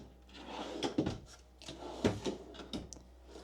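Wooden drawers in a 2025 Jayco Eagle HT 230MLCS travel trailer's rear kitchen slide open and shut several times, with soft knocks and rubbing thuds at an uneven pace, close by and moderately quiet.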